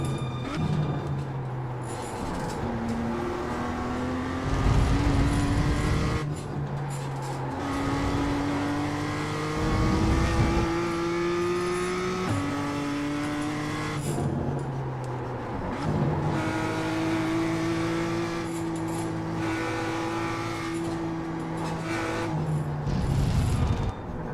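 A race car in the iRacing sim on the Winton circuit: engine climbing through the gears in repeated rising pulls, with drops between shifts, loud and near throughout, with no voices.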